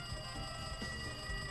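A telephone rings in the Danganronpa 2 video game, a steady electronic ring with a sustained high tone repeating continuously and loudly over the whole moment, with no talk.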